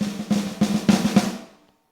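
A Roland electronic drum kit snare struck in the center, four quick, evenly spaced hits with a short, dry body, close and alone, fading out after the last stroke.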